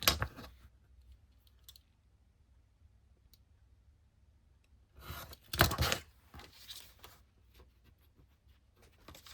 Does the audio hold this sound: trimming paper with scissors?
yes